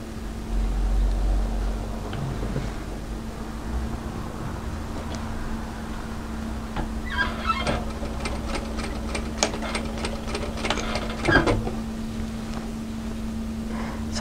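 A sewing machine stitches the collar seam of a crop tailored knit military jacket through three layers, a quiet steady hum with a constant tone and faint clicks and rattles building toward the middle, close by and without talk.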